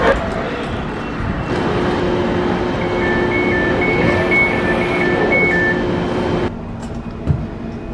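Greater Anglia Class 720 train, a steady interior rumble with a sustained electric traction whine and brief two-tone chimes midway, the hum dropping near the end.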